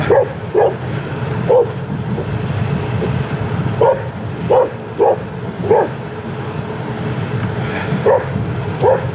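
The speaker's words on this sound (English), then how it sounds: "I believe the dog is chasing me." A small dog barks repeatedly while chasing a bicycle along a road, sharp yips coming in irregular pairs and singles over constant wind and tyre rumble from the moving bike.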